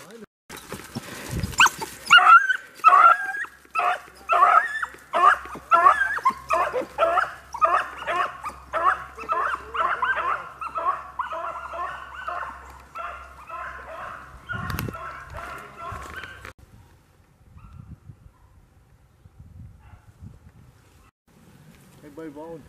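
Hunting dogs on a rabbit hunt give a long run of yipping, baying barks at mid distance, rapid and overlapping for about fifteen seconds before fading to quiet, with a low engine-like hum briefly underneath.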